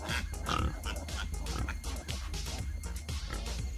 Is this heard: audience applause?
no